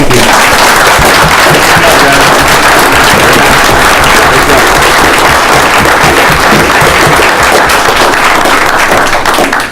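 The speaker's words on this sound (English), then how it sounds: "Can we have another round of applause?" Sustained loud applause from an audience at a Lawrenceburg city meeting, dense clapping filling the room continuously for about ten seconds with no pause.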